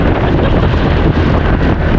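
Strong wind roars across the microphone, a steady loud buffeting rush with no other sounds standing out.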